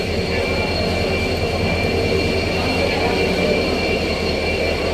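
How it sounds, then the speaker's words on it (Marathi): A 9 to 10 coach railway train running on a newly built section during CRS inspection testing gives a loud, continuous rumble and steady rolling drone close by, unbroken for the whole stretch. "हे 9 ते 10 डब्याची रेल्वे गाडी आहे"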